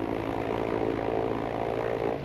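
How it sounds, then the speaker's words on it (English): An aircraft engine drones steadily in Battlefield V, a constant propeller-plane hum holding at an even level throughout with no voices. "I'm back in a plane."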